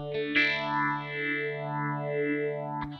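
A guitar chord through an MD200 effects unit, struck once and left ringing with a slow, wavering chorus-like sweep, then a brief second pluck right at the end. No talking.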